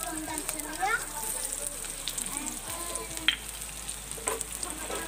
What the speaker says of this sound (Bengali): এখানে আমি দুটো কাঁচা লঙ্কাকে কুচো নিয়েছি এবং এটাকে দিয়ে দেব। লঙ্কাটা একটু ফ্রাই করার পর